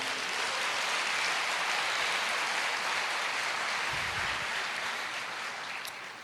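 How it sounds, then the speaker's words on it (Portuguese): A church congregation applauds in a continuous dense wash of clapping that holds steady for several seconds and then tapers slightly, with no voices over it. "Você pode aplaudir o Senhor."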